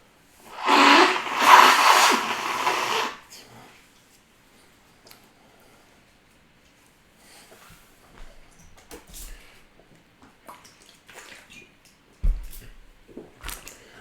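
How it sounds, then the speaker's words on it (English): A single person blows their nose in one loud, close, breathy burst lasting about two seconds, followed by faint rustling and small handling noises in a quiet room. "I'm just going to try and blow my nose again."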